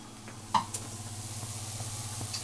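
Rice toasts in a pan with crushed garlic while risotto is being made, giving a faint steady sizzle with a few soft clinks and stirring scrapes.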